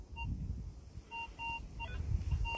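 Short electronic beeps from a metal detector in a quick irregular series, repeating at a steady pitch over faint background rustling.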